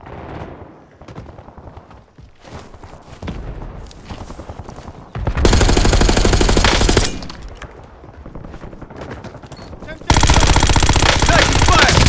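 Call of Duty Warzone Resurgence gunfire, with scattered shots and then two long, loud, sustained bursts of automatic fire close up, alongside game voice lines and background noise.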